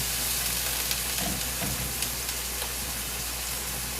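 Freshly chopped garlic sizzles in a hot pan with a steady, dense hiss and occasional soft crackles, close and continuous with no talking.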